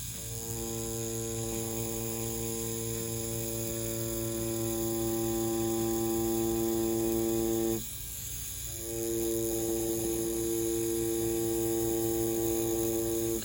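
An InkClaw Challenger rotary tattoo machine runs close up with a steady electric buzz and hum that drops out for about a second before starting again.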